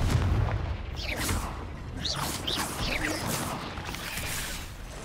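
A Confringo explosive spell cast at a spider in the Hogwarts Legacy video game, a continuous rumbling blast with whooshing bursts and crackles running steadily for several seconds at fairly loud level.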